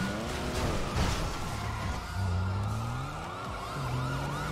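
Wailing police car siren in a roleplay video game, heard as repeated rising and falling sweeps, fairly loud and steady alongside engine noise and game sounds.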